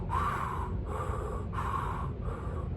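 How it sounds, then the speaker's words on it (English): A person breathes out forcefully through the mouth in four steady, rhythmic blows, close and loud, with no talking. "I blow it out my mouth."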